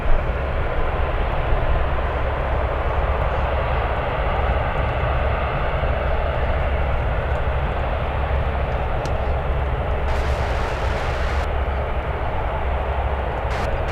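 An airliner's rejected takeoff at San Francisco International Airport, a loud sustained jet engine roar heard from a distance, steady throughout with a slight rise in hiss near the end.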